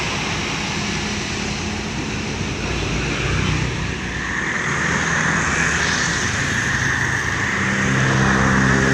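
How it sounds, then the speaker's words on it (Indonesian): A medium bus passes on a Sumatra highway on a morning, its engine rumble and tire roar swelling steadily as it approaches and rising near the end, with a droning engine tone beneath. "Ini ada bus medium."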